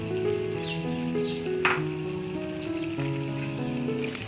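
Egg halwa (ande ka halwa) cooking in a pan, with a soft continuous sizzle and a brief stir or scrape in the middle, heard under background music.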